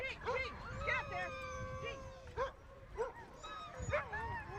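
Sled dogs waiting out a weeks-long delay in Punta Arenas bark, yip and whimper close by in quick, repeated bursts, with high whines rising and falling between the barks.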